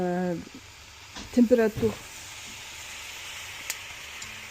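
An ice cube hits a hot oven set to maximum for baking sourdough bread and gives off a short, faint hiss of steam, while a person speaks French before and during it.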